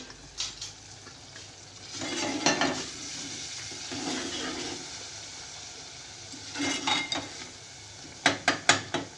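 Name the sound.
matar keema with tomatoes frying and being stirred in a pan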